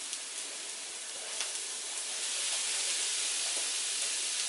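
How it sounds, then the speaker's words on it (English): Carrots and onions sauté in a hot pan with cauliflower for cauliflower fried rice, a steady close sizzle and hiss with crackling pops that holds even throughout and swells slightly louder toward the end. "after sauteing the carrots and onions, I am going to add the cauliflower"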